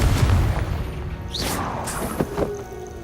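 A Confringo fire spell bursts in Hogwarts Legacy, a heavy booming blast with a rising whoosh and a few sharp thuds trailing off as the explosion settles.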